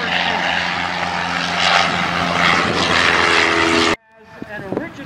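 A Fokker DR1 triplane, a World War I fighter, drones with a loud, steady propeller-engine roar for about four seconds before it cuts off abruptly, leaving faint tonal traces and scattered noises.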